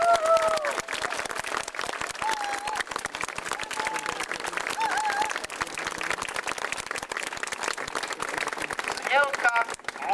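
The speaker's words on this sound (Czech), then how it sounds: "musíme jim ještě jednou zatleskat" An audience applauds amateur trumpeters at an outdoor trumpet event in Třeboň, steady dense clapping throughout with faint brass tones and scattered voices mixed in.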